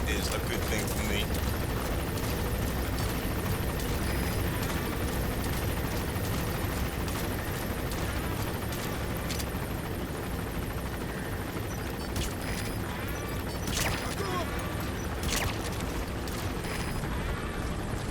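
A military helicopter roars continuously in Metal Gear Solid 5: The Phantom Pain, its loud rotor drone layered with bursts of gunfire and sharp impacts across the whole stretch.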